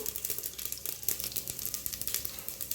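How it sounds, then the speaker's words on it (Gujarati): Cumin seeds sizzle in hot oil after mustard seeds have already crackled, making a steady close frying hiss dotted with rapid small pops and spatters throughout, with no voices. "રાઈ તતડી ગઈ છે એટલે હવે આપણે જીરું નાખીશું"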